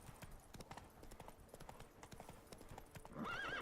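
Hooves clip-clop in a quick, steady trotting rhythm, ending with a horse's whinny near the end, in the video game The Witcher 3: Blood and Wine.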